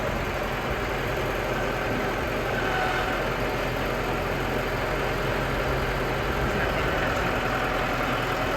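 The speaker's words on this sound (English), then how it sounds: "I guess we're just gonna drive it right on up the ramps." A tractor engine runs steadily as it drives up trailer ramps, a continuous low rumble that stays loud and even throughout with no voices over it.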